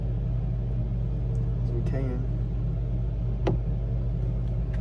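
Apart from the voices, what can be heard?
ventilation fan running to clear fumes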